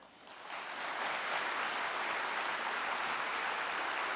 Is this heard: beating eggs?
no